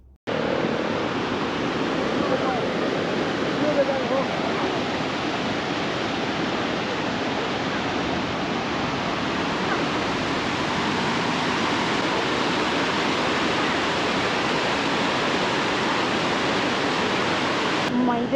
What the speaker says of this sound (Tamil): பாருங்க, என்ன வடிவான ஒரு நீர்வீழ்ச்சி, அருவின்னு தான் சொல்லணும்